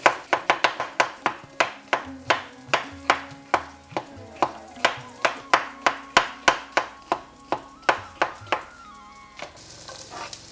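Red peppers chopped into chunks, a fast, steady run of crisp knife strikes on a board, roughly two or three per second for most of the stretch, then a brief scraping sound at the end.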